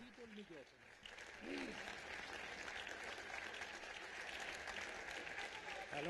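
Audience applause at a book launch for a journalist's book, a sustained crowd of clapping hands that swells after a brief voice at the start and continues evenly at a moderate distance.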